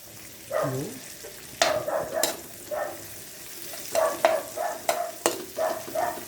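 Dried fish (tuyo) sautéing in a pan with repeated bursts of sizzling as it is stirred, a steady crackle rising and falling in close, loud surges with short quieter gaps between.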